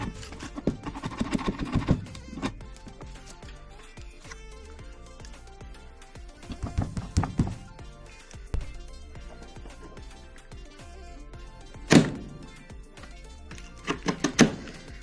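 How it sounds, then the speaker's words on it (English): A hand chisel cleans up a wooden craft repair with sharp, close scraping cuts and knocks in short clustered bursts. Quieter gaps separate the bursts, and faint background sound sits underneath. "I'm just going to use this chisel to clean it up."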